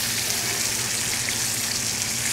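A hanger steak sears in a pan with melting butter, giving a loud, steady broadband sizzle that runs unbroken from start to end, with no one talking over it.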